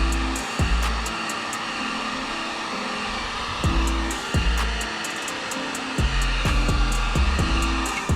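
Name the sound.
heat gun heating a Jeep Grand Cherokee badge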